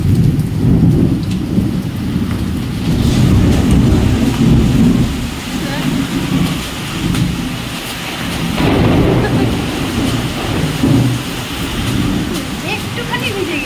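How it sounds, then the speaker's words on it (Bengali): Heavy rain pours down steadily with rolling thunder, a dense loud roar of rainfall on surfaces heard from indoors at home, continuous across the whole stretch with low rumbles swelling and fading. "আর এই যে বাড়িতে পৌঁছানোর সাথে সাথে পুরো জোর বৃষ্টি শুরু হয়ে গেছে।"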